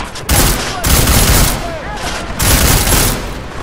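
The Elite Edition Combat Rifle in Deus Ex Mankind Divided fires in loud, sustained automatic bursts, three long volleys separated by brief pauses, with booming impacts under the shots.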